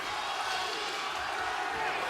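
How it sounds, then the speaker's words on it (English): A boxing arena crowd roars steadily, cheering to urge on a fighter during a bout; a dense, continuous wash of voices fills the space, with a commentator's voice mixed into the noise. "Crowd trying to urge him on."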